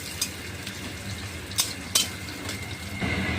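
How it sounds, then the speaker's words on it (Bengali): Chopped onions fry in a pan with a soft sizzle, broken by several sharp scrapes and clinks of a spoon stirring against the metal. "দিয়ে দেবো কুচিয়ে রাখা পেঁয়াজ পেঁয়াজ থেকে একটু ভালো করে ভেজে নিতে হবে"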